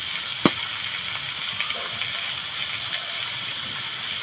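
Banana flower (mocha) tipped into a pan of well-fried spices, giving a steady close hiss of sizzling with one sharp clink near the start and faint stirring taps after.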